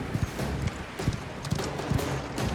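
Horse hooves in the Mafia The Old Country video game, a rhythmic clip-clop of galloping beats repeating at a quick steady pace over a constant background rumble, with no voices over it.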